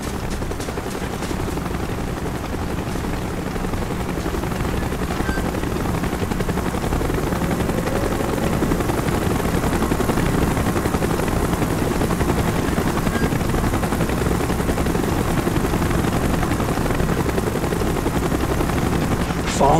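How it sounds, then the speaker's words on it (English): Helicopter in the Call of Duty: Black Ops Baikonur Cosmodrome 1963 mission, a steady loud rotor drone throughout, mixed with bursts of gunfire and battlefield noise. "Chopper's inbound. Move it."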